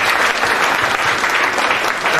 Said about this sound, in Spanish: Démosle un aplauso y lo escuchamos con gusto.